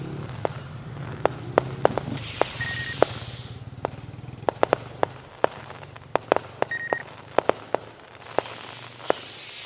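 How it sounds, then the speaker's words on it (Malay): Firecrackers go off during Malaysian Independence Day (Merdeka) celebrations in Sungai Buaya town, with many sharp, scattered pops and bangs at varying distances over crowd and street noise. Occasional hissing bursts and a faint beep are heard, and there is no talking. "Mercun."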